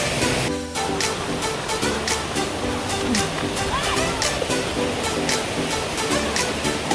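A rain-season waterfall near Banganga dam pours in a steady loud roar of rushing water, with voices faintly under the wash.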